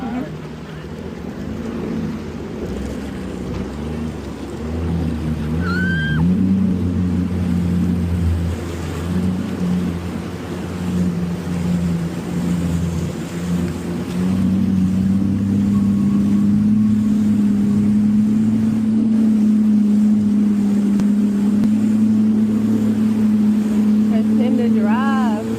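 A jet ski engine drones steadily on open water off an Aruba beach, its pitch rising and settling with throttle changes under wind noise, while voices talk over it at times.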